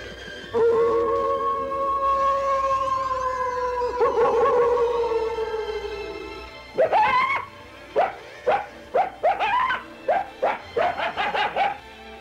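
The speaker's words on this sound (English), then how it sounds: "That's the voice of the desert, the coyote." A coyote howls in the Disneyland Frontierland desert scenery, long wavering howls followed by a rapid series of short yips and barks, loud and close in an otherwise quiet setting.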